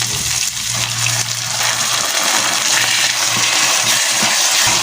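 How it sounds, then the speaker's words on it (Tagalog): Water poured into a cooking pot holding sautéed onion, garlic, tomato and corned beef for a squash and Malabar spinach dish, a steady rushing gush that runs loud and continuous with no talk. "Lagay tayo tubig."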